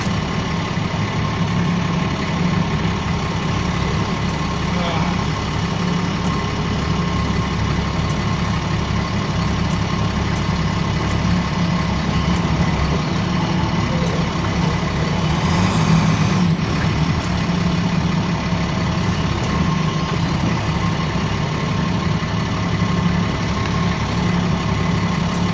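A dump truck's heavy diesel engine idles steadily in a loud, constant rumble with faint clicks and a brief hiss partway through while it maneuvers near a loader on a work site, with no talk.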